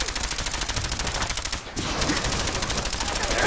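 Rapid automatic gunfire in the video game Fallout 4, loud and close, sustained bursts with a steady rattling rhythm that breaks briefly midway and then resumes.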